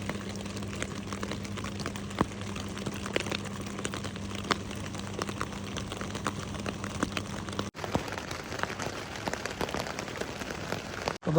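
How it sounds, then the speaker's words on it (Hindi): Rain drumming steadily on a camping tent, a dense, even patter of drops that continues throughout, close and fairly quiet. "बारिश थोड़ी थोड़ी लगी है अभी भी"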